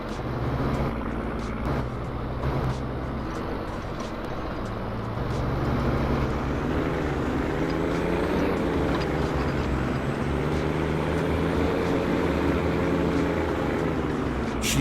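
A New Holland TM 190 tractor in Farming Simulator 25 runs with a steady, loud diesel drone and low engine harmonics that rise slightly in pitch partway through, continuous and close with no talk.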